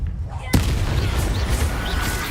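A loud Confringo explosion spell from the video game Hogwarts Legacy bursts suddenly after a quiet moment, followed by a dense, sustained roar of blast and rumble.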